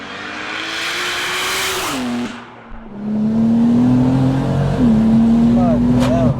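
A 700hp single-turbo rear-wheel-drive BMW M4 accelerating hard, engine note climbing through gears with a short lift and gear change, loud and close from inside the car, with voices talking over it.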